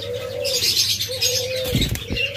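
A pair of cockatiels calls at close range, giving a few short whistled notes against a soft background twitter, with no voices.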